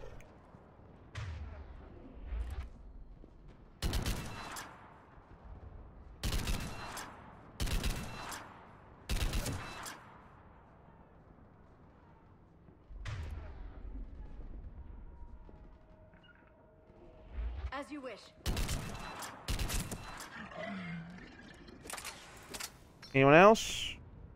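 Mass Effect 3 gunfire: bursts of heavy shots crack out repeatedly at a steady, punchy level, separated by brief quieter gaps, with a final sharp burst near the end.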